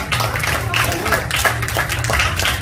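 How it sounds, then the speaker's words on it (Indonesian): An audience at a presentation and reward ceremony applauds continuously and fairly loudly, with a steady low hum running underneath. "Beri tepuk tangan yang luar biasa Bapak Ibu buat orang-orang yang sangat luar biasa"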